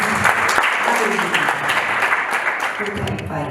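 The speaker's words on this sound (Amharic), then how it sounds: "እስኪ አጨብጭቡላችሁ" A church congregation at a Johannesburg gospel service claps steadily and loudly throughout, with voices mixed in under the dense, continuous applause.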